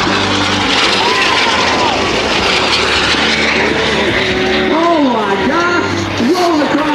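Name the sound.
Thunderbirds jets passing at an air show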